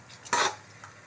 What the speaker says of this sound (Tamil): இது நல்லா கறியை போட்டுட்டு நல்லா கிண்டி விட்டு நல்லா வேகட்டும்.